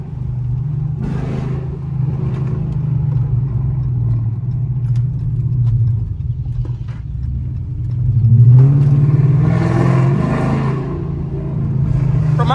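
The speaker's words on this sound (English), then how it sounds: "my car sounds loud as shit right now" A Chrysler 300 with a 5.7 Hemi V8 and a 180 thermostat rumbles loudly and revs up twice, with a strong surge near the end as it accelerates close by.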